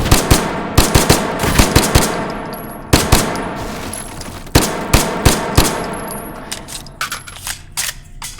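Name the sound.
gunfire in video game H3VR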